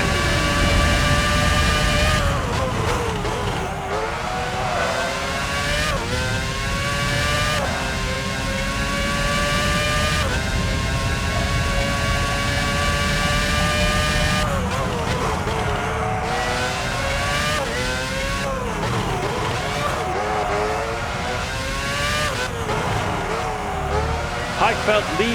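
A Formula 1 car in the F1 06 game pulls out of the pit lane at the Turkey circuit, its engine whining loud and steady with rising and falling revs, while a commentator talks over it.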